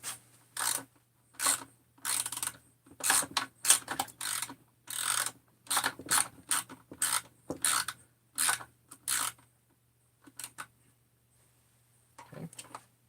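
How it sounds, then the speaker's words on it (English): A stud with M5 nuts is screwed down with a ratcheting tool, giving a series of close, quick mechanical clicking bursts in a steady rhythm that pause and then trail off. "And now you can take and just screw that stud down."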